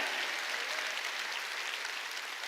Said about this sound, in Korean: 깨닫는 사람 세게 박수 치라고요